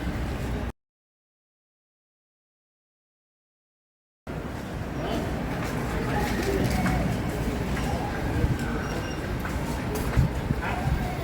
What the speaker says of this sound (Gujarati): બહુ બધા બર્ડ્સ આવી ગયા છે